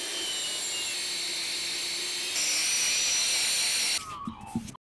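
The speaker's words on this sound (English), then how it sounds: "We're just going to flap this back with a Scotch-Brite disc." A Scotch-Brite disc on a power tool sands back surface rust on a car panel, giving a steady high whirring grind that holds for about four seconds, then slows and cuts out near the end.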